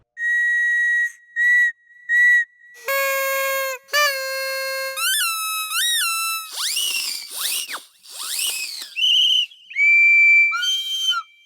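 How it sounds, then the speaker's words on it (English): A toy whistle from a sampled toy library plays a series of separate close, shrill blasts: short steady tones, pitch slides and trills, and warbling falling notes, each alone with silence between. "And we also have this cool toy whistle."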